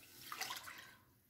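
Water poured into a saucepan while starting choux pastry for chocolate eclairs, a faint, short splashing trickle that fades out after about a second.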